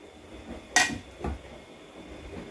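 Hot cookware set down on a pot stand in a home kitchen at breakfast: a single close clunk with a brief metallic ring, a softer second knock shortly after, then quiet room tone.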